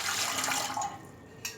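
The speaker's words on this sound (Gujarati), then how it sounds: "એની અંદર જે પાણી લીધું હતું એ પાણી એડ કરી દઈશું" Water poured from a vessel into a large cooking pot on the stove, a steady gushing splash that fades after about a second, with a brief final spurt.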